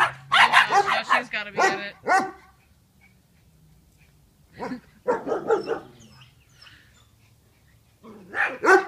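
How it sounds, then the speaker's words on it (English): Dogs barking in sharp, loud bursts of several barks at a time, with pauses between volleys and people talking nearby. "Vicious dogs."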